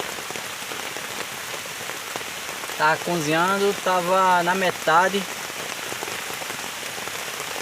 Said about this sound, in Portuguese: e a chuva de repente veio novamente